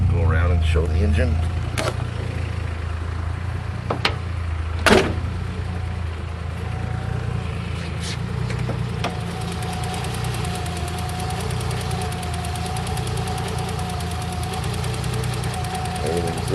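A Datsun 510 fitted with a VG30 engine idles in a steady, continuous low rumble close by, with a few sharp knocks early on and voices talking over it.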